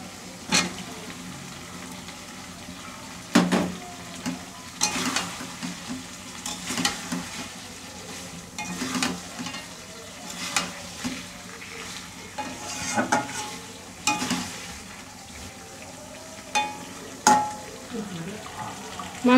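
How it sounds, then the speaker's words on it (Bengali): Mutton curry meat braising in a pan, stirred repeatedly with irregular scrapes and clanks against a steady sizzle, close and continuous throughout. "মাংস কষানো কমপ্লিট"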